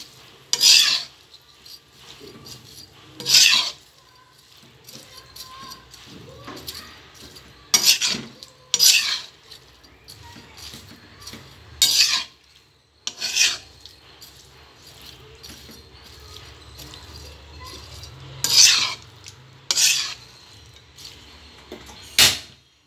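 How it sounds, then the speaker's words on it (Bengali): Spiced potatoes are stirred in a pot in bursts of scraping and rasping strokes against the metal, spaced a few seconds apart over a faint background with a soft sizzle, up close. "ভালোভাবে নেড়ে দিচ্ছি, যাতে করে মশলাগুলো ভালোভাবে"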